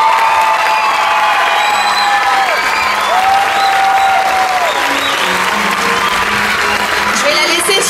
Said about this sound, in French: et un tonnerre d'applaudissements, s'il vous plaît.